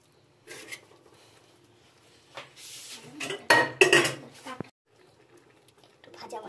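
Khichuri is stirred in a cooking pot with a utensil. Sporadic scrapes and clanks of metal against the pot come in short bursts, with one louder cluster in the middle, and a voice speaks faintly at times.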